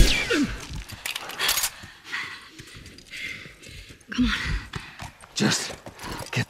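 Horse hooves in the video game The Last of Us, clopping in uneven bursts amid game ambience and scattered thuds, moderately loud and close.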